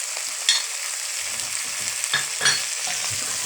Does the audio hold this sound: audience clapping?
no